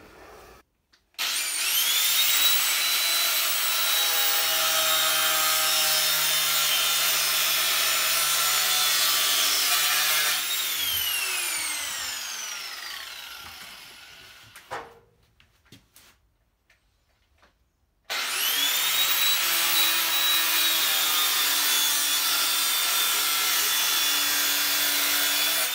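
Sheet metal for a Suzuki Marauder fuel tank is sanded with a steady, close abrasive rasp that runs in two long stretches separated by a quiet pause with a few small knocks.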